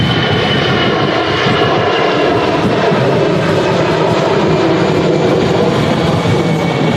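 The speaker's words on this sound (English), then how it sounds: "Now Lufthansa rotating off to Munich, A320, 3 years old from 2019." A Lufthansa Airbus A320 takes off in strong crosswinds, its engines giving a loud, sustained roar close by, dense and unbroken across the whole stretch with no talking.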